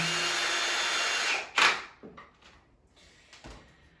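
A power drill drives screws into the wood of a Montessori climbing triangle, whirring steadily for over a second, then a brief loud burst and scattered clicks and clunks as the work pauses, close and with no voices.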